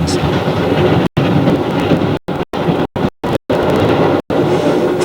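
A train rolls along rails through open country, a loud steady rumble and clatter filling the whole stretch, broken by several brief abrupt dropouts.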